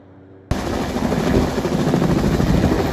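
A PG&E wildfire-safety patrol helicopter flies over San Luis Obispo and Santa Barbara counties, its rotor chop kicking in abruptly and holding loud and steady.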